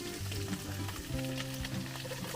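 Garlic and onion sauté in a hot pan with chili, a soft continuous sizzle and crackle with occasional stirring scrapes, fairly quiet and without voices.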